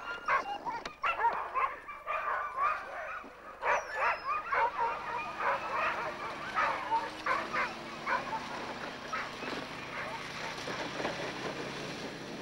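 A team of sixteen racing sled dogs in Alaska barks and yips repeatedly while being loaded onto a trailer, an overlapping chorus of close, excited barks with whimpers mixed in, and a faint voice in the background.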